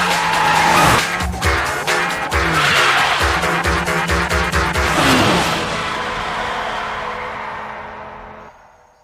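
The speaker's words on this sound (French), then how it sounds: "Pour en finir avec cette course, il faut juste que je lui fasse un show de dérapage enchaîné" In the Initial D anime, a street-racing car drifts through a series of corners. Loud tire squeals and skidding run over a revving engine with rapid gear shifts, then fade away toward the end.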